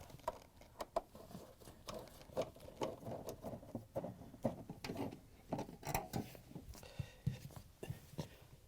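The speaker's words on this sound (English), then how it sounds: "Now we're going to use a 1/4" nut driver to take off the screws that hold on the access panel." A 1/4 inch nut driver backs out the access panel screws on a GE dishwasher, producing quiet, close ticking and scraping bursts in an uneven rhythm, with no speech.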